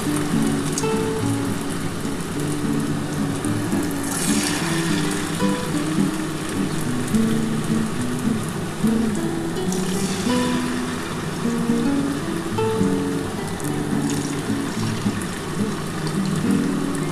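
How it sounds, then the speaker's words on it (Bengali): Paneer pieces fry in oil over a low flame, giving a steady, even crackling sizzle close by for the whole stretch, with no voices over it. "আস্তে করেই আমি ভাজছি।"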